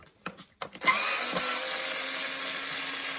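A cordless drill-driver clicks a few times, then spins up and whirs steadily while unscrewing cross-head screws beneath the switch of an Expert steam vacuum cleaner, close and even-toned for several seconds.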